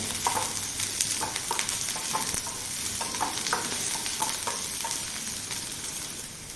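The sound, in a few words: frying okra in a pan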